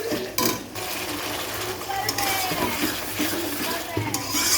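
Chicken being stir-fried with onions, turmeric and spices in a pan, a steady sizzle with scraping and clinking of a spatula against the metal, under a voice talking.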